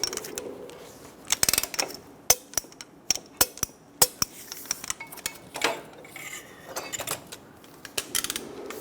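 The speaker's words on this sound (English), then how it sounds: "Torque the axle bolts to 58 foot-pounds." Front axle bolts on a 2014-2018 Chevrolet Silverado 1500 are torqued with a wrench, heard as a run of sharp, close metallic clicks and ratchet snaps at irregular intervals, fairly loud, with no voices.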